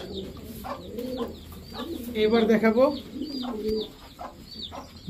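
A female pigeon, a bronze chila with heavily feathered feet, coos close by in throaty, rolling calls that swell to a loud peak midway, while someone talks briefly over the birds.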